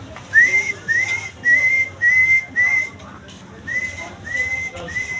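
A man whistles repeatedly to call street dogs, giving about eight short rising whistles in quick succession with a brief pause midway, clear and close over faint background noise.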